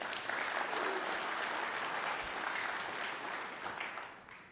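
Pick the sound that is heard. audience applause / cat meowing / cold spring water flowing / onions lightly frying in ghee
audience applause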